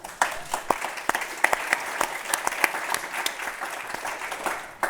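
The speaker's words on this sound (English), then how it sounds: "Big round of applause for David." A conference audience claps to welcome presenter David Garrido, sustainability lead at Sky, a sparse, uneven applause of distinct individual claps that builds briefly and trails off.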